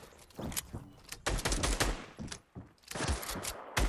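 Rapid bursts of Fortnite gunfire, close and loud, in several clustered volleys with brief gaps between them.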